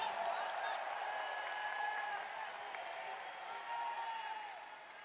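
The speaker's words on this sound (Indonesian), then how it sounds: "Beri tepuk tangan untuk seluruh jajaran Amanat Indonesia." A crowd applauds and cheers at an Indonesian political speech event, fairly distant and moderately loud, swelling and easing slightly over a few seconds with a faint ringing tone in the hall.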